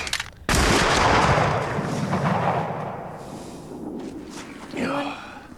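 Gunfire in a movie duel scene counted off at twenty paces: a sudden loud blast opens the clip and rolls off into a long, dense rumbling decay, with a softer burst near the end.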